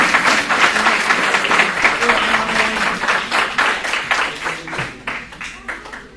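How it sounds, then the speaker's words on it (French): A crowd applauds loudly and steadily for several seconds, dense clapping filling the room, with some voices mixed in before it thins toward the end. "on salue la sœur Halima et son équipe et on les applaudit très très fort."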